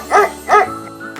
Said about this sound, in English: a bark like a dog